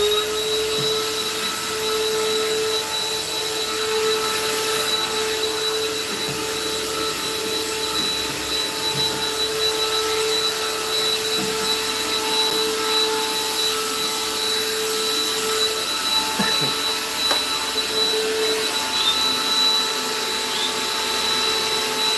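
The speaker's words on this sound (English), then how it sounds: "Wipe my hand and do some vacuuming." A vacuum cleaner runs continuously up close, a steady whine with a high tonal hum, sucking up loose bits of variegated gold leaf from an oil painting.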